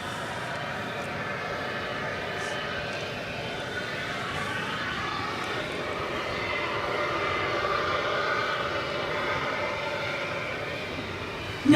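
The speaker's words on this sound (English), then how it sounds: "It's an MD-11." UPS MD-11 cargo jet, flight 793 bound for Louisville, at DFW Airport: a steady, moderately distant engine roar that holds level throughout, with a faint voice talking briefly underneath.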